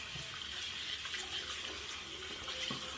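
A tap runs steadily into a sink to rinse lather from a badger shaving brush, a close, continuous hiss of flowing water with no talking.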